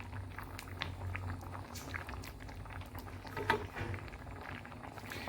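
Pengat of fish and water fern simmers in fresh coconut milk, a soft continuous bubbling and gentle patter at close range, steady throughout with no voices.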